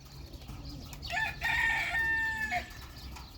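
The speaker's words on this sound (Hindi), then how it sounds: "ये कुक्कड़ है।" A rooster crows once, close and clear, a single drawn-out cock-a-doodle-doo over a quiet yard with faint background noise before and after.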